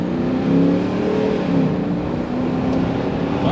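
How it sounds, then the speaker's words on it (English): A 2022 Ram 2500 Power Wagon with a 6.4L Hemi V8 accelerates, its engine note rising and holding a steady droning pitch from inside the cab, loud and alone. "And let's give it some gas here."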